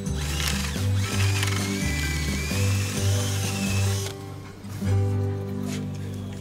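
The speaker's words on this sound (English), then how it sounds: "I'm now going to drill out a new hole for the leg to go back in" A power drill bores a new hole in a wooden furniture leg socket during a repair, running in steady bursts with a brief pause near the middle, close and fairly loud with no talk.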